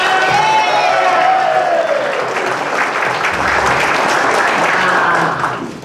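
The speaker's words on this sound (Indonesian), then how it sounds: "sama-sama berikan tepuk tangan yang luar biasa untuk Bapak Ibu semua" A talk show audience breaks into loud, sustained applause with cheering and whoops, while a voice rings out over the clapping at the start.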